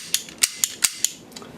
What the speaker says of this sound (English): And of course it would shoot the caps